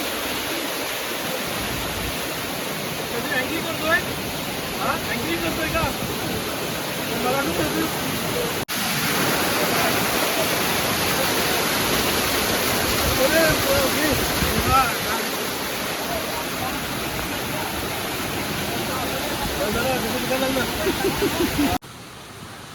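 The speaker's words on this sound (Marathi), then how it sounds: "हा बघा कसा डोंगरातून पाणी धो वाहत येत आहे" Water rushes down from the hills near a temple in Virar continuously in a loud, broad roar like a waterfall or fast stream, with faint voices beneath the flow.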